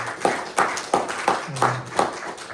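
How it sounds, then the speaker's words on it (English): An audience at a Midstream reading series event gives the readers a round of applause, heard as a sparse, steady run of claps, about one every third of a second, at moderate level. "can we get a round of applause for our readers?"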